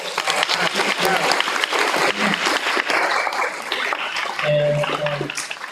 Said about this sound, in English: just give a round of applause